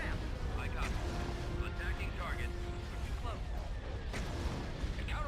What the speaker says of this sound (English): Okay, now that's just ion cannons.